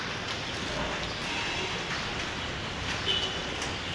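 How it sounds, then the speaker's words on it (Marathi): Steady rain falls on muddy open ground where a Ganpati pandal and stage are being built in Lalbaug, Parel, a dense even patter and hiss with no pauses. "पाऊस पण पडत आहे."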